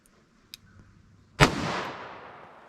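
A single sharp gunshot from a 4-inch-barrel Smith & Wesson .357 Magnum revolver firing Corbon 125-grain JHP, loud and close, with a long decaying echo after faint earlier clicks.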